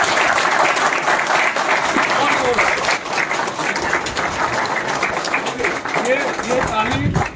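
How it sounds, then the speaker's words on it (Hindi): A conference audience at a Shriram Finance regional event in Baripada claps loudly and continuously, a dense crowd applause filling the whole stretch with voices and cheers mixed in. "पहले तो मैं चाहूँगा एक बड़ा जोर से ताली हो।"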